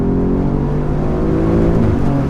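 The 510 hp engine of an Alfa Romeo Giulia QV pulls hard under acceleration on a rally club drive, giving a loud, close, steady growl with rising harmonics over about two seconds and no voices.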